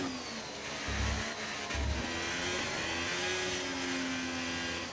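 Formula 1 car engines in the F1 25 racing game, a steady mid-pitched engine drone with two short low thumps early on, heard alone without talk.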